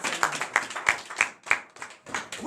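A congregation at a morning prayer service in Benin claps in a steady rhythm, roughly three sharp claps per second, moderately loud and fairly close, with no talk over it.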